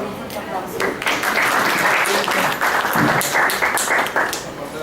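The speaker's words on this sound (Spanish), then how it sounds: "Por favor, recibámoslo con un fuerte aplauso." An audience applauds at a workshop event, a dense wash of clapping lasting the whole stretch at steady loudness.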